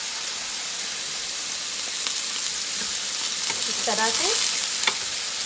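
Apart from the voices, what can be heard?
chapli kababs frying in a pan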